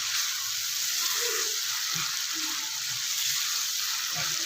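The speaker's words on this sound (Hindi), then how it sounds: "मसाले की अच्छी से भुनाई कर लेंगे।" Spices sizzling and frying in a pan while being roasted for Indian dal fry, a continuous close hiss with faint stirring scrapes underneath.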